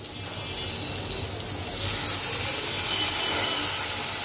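Water splashes into a pan of vegetables that have been cooked down, a steady hissing, sizzling pour that swells louder partway through, heard close with no talk.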